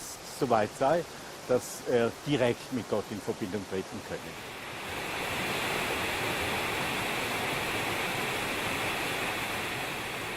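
A voice speaks for the first few seconds, then the Steinach waterfall takes over as a loud, steady rushing roar that carries on without a break to the end.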